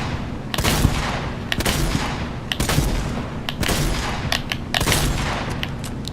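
Repeated gunshots crack from a gun in Fortnite, sharp loud reports spaced irregularly over a steady din of game noise, close and without talk.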